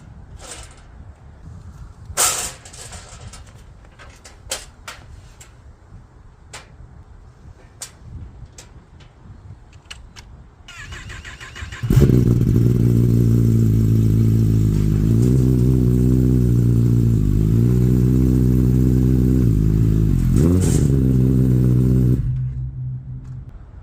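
A motorcycle is powered on and ridden onto the outer rail of a Kendon motorcycle trailer, its engine starting after quieter clatter and running steady and loud for about ten seconds before cutting off.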